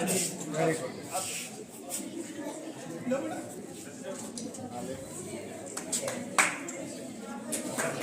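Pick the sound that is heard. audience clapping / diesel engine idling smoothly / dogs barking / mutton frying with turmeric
audience clapping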